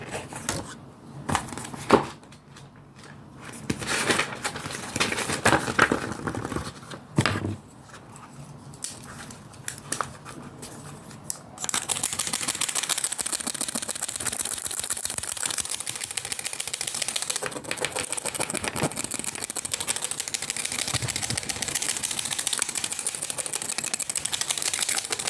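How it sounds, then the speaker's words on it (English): Close, fast scratching of a pen or pencil on paper for ASMR, starting with some tapping and rustling and then settling into a continuous loud scribble with no talking. "let me do writing sounds"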